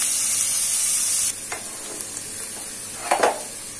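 Onion and garlic sauté in a pan for paruppu urundai kuzhambu: a bright hissing sizzle for over a second, then quieter frying with a few soft stirring clatters.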